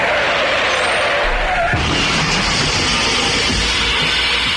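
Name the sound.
car skidding and crashing sound effect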